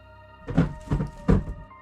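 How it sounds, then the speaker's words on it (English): Three heavy, booming bangs strike a door in a quick, evenly spaced run, each a deep thud with a short rumble after it, loud and close with no voices. "And with that, a loud bang at the door."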